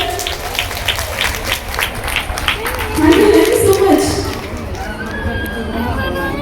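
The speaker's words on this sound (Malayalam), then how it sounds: "നല്ലൊരു കൈയടി എല്ലാവരും ചേർന്ന്." An audience at a national-level abacus competition bursts into a short round of clapping, busy at first and then thinning out, with a voice talking over it nearby.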